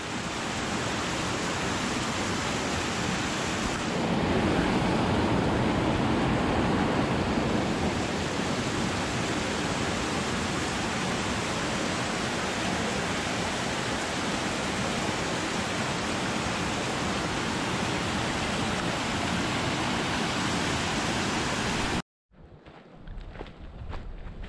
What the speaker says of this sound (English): we hiked up to this, I think, unknown waterfall